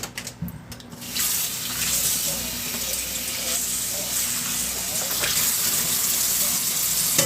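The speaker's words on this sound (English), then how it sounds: "we're also going to wash the cutting board." A kitchen sink tap runs in a steady, loud gush while a cutting board is washed under it, with a few knocks and splashes as it is handled, after a short burst of clatter at the start.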